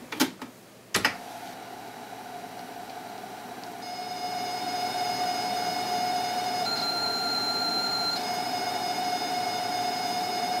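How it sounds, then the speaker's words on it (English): An Amstrad CPC 464 loads a program from its built-in cassette tape drive: two short clicks as the deck starts, then a steady, continuous data tone with a high whistle that shifts pitch partway through, unbroken and alone. "Time to reboot and load the program from tape again."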